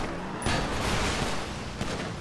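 Rapid gunfire in GTA 5 roleplay, a dense crackling burst of shots that sets off sharply and runs steadily for about two seconds at moderate loudness, with no talk over it.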